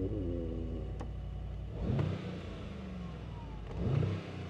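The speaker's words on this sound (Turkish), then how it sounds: "Dur sesini, egzoz sesini de şuradan açayım." Mercedes-AMG G63 V8 exhaust with a deep, steady rumble broken by two sharp revs about two seconds apart, close and loud, each swelling then settling back to idle.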